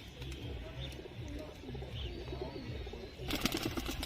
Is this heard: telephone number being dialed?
no